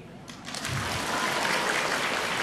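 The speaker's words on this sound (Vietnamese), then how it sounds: "Một lần nữa xin một tràng pháo tay nồng nhiệt" An audience at a music concert for a book and poetry launch breaks into applause for a singer; the clapping swells after a half-second start and holds steady and full, heard from a moderate distance.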